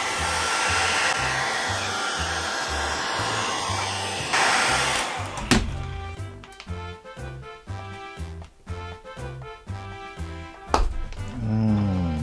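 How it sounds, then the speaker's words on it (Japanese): A hair dryer blows hot air on a Lenovo Tab6 tablet's cover during a repair, a loud steady whoosh for about five seconds, then cutting to tapping and knocking sounds over music. "ドライヤーで温めていきます。"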